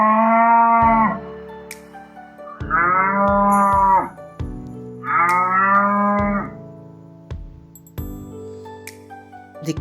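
A cow lowing three times in long, deep, drawn-out moos with pauses between them, close and clear, with faint clinks around them.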